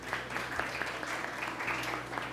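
An audience applauding as an intermediate student is called up at an Urdu speech event, a brief steady patter of many hands clapping in a hall.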